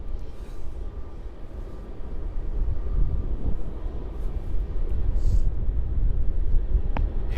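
A jet airliner racing down the runway at Melbourne Airport, a heavy continuous low roar of engines and rolling wheels that builds slightly and holds steady from a distance, with a brief sharp click near the end.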